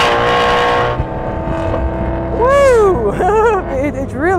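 A Ford race car on a track runs with a steady engine drone that fades, then rising and falling revving sweeps come through loud and close, with speech mixed in.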